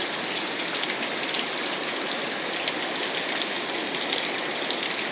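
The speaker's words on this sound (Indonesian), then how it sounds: "Hujan tapi panas" Rain falling during sunshine, a steady, dense hiss of drops on surfaces, loud and unbroken throughout with no voices.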